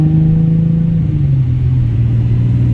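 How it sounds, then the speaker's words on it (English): A car with a newly installed hybrid transmission mount drives steadily on a test drive, giving a loud, continuous low engine hum whose pitch drifts gently downward, with no voices. "I'm gonna go do a test drive and see how it feels."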